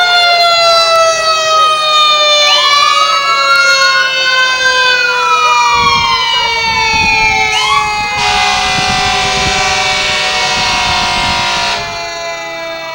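A fire truck siren in a town's 100th anniversary parade wails loud and close, rising and falling, joined partway through by a blaring air horn before it fades slightly.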